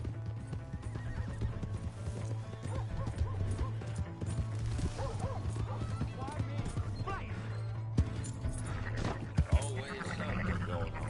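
A horse in Red Dead Redemption 2 gallops with a rapid, steady clip-clop of hooves and gives a whinny, while a voice shouts and game machinery and music play underneath.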